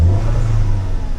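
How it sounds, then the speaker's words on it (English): Small turbocharged car engine revving steadily at close range, a sustained low drone with a faint whistle riding over it, no talk. "You can hear the little turbo."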